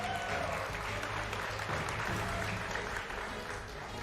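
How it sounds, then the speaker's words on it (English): A stadium crowd at a StarCraft esports tournament, the WCS Spring 2019 Round of 16, cheering and applauding in a steady, distant roar that holds throughout, with a low rumble beneath it. "Crowd's been fantastic. Getting late, they've been here all day, but still making so much noise."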